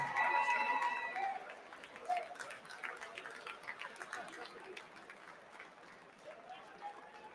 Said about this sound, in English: let's have a round of applause for these two great fighters and one great championship bout